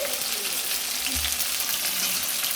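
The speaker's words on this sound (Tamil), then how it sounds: "சின்ன வெங்காயம் வதக்கி இப்போ மூணு பச்சை மிளகா மூணு பச்சை மிளகாயை போட்டு" Small onions and green chilies fry in a pan, giving a loud, steady, hissing sizzle with a faint scrape of stirring partway through, close and without talk.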